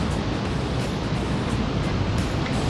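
Surf rolls onto the beach at Ocean City, New Jersey, a constant broadband wash of waves mixed with gusty wind buffeting the microphone, with no voices.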